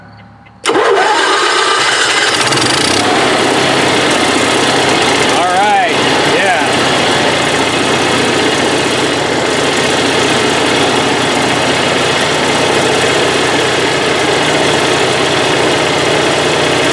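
An Onan Marquis 5500 RV generator cranks and fires up after carburetor repair, then settles into a steady, fairly quiet mid-pitched running drone that holds evenly, with people talking over it.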